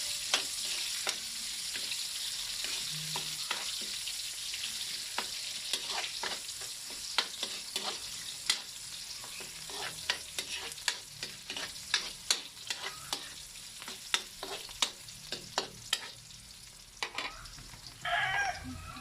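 Onions sautéing in a pan for a Kapampangan home-cooked dish of stir-fried squash shoots, giving a steady close sizzle and frying hiss with repeated sharp stirring scrapes and clinks throughout.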